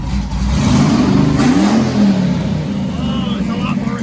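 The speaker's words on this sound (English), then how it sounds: "Let's see what it's like on a rev." A car engine revs up and settles back toward idle after a disc brake conversion, a steady mid-pitched roar throughout that rises briefly before easing off, close to the microphone.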